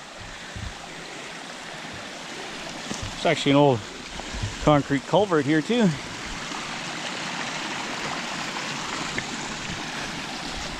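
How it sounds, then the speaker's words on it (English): A small creek flows through a forest near an old concrete culvert, a steady soft rushing of water throughout, with someone speaking briefly partway through. "I can hear the creek."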